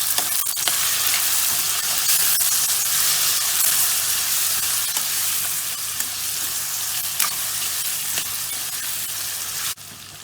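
Tomatoes sizzling in a hot pan for potato curry, a loud, continuous hissing fry with steady stirring scrapes, close up and without talk.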